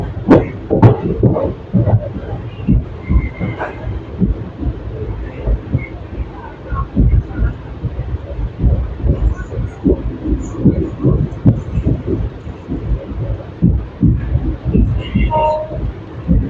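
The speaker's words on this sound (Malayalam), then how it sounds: "ഇതിപ്പം 18 മിനിറ്റ് ഡിലേയിൽ 2:55 ആകുമ്പോൾ നമ്മുടെ ട്രെയിൻ പറമ്പക്കുടി സ്റ്റേഷനിലേക്ക് കയറിക്കൊണ്ടിരിക്കുന്നു" Train pulling into Paramakudi station, a low continuous rumble and clatter of wheels with rhythmic thumps throughout, heard close from on board, with occasional higher squeals and faint voices in the background.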